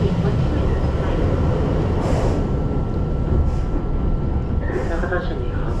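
A Keihan local train sits at a station on a rainy day between Kyoto and Osaka, its loud continuous rumble and hiss filling the space while a voice speaks over it.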